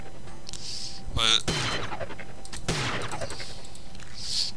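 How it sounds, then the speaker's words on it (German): Gunfire in the video game Prey comes in a few sharp, loud bursts with a clanging impact, separated by brief gaps, while someone talks over the game sounds. "Schüsse auf den Kopf, die Biester überleben."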